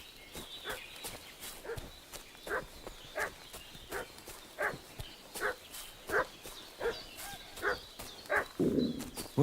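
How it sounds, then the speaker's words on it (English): Dog barking in the medieval video game Kingdom Come Deliverance 2, a run of repeated barks at a steady rhythm, mid-distance, over ambient game sound with rhythmic hoof-like steps. "What's that dog making such a fuss about?"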